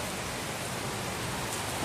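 Steady rain hissing evenly throughout, a dense wash of falling water with no breaks and no voices.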